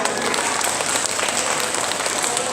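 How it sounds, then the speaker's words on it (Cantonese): An audience at a hall concert applauds, a loud, dense and steady wash of clapping from many hands throughout. "好，俾啲掌聲兩位。"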